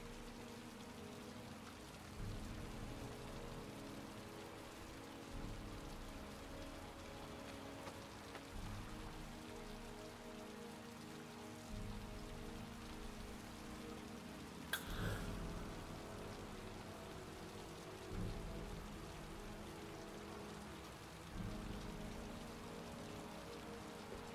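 Steady rain pours down in the PS3 game Heavy Rain, a continuous hiss of drops on surfaces with low rumbling ambience beneath and a brief sharp click partway through.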